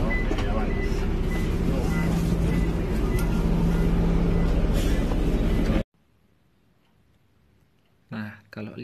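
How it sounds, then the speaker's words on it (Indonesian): A steady bus ride heading toward campus: continuous low engine rumble and cabin hum for several seconds, then a sudden cut to near silence before brief noise returns, with occasional voices. "Kita naik bis."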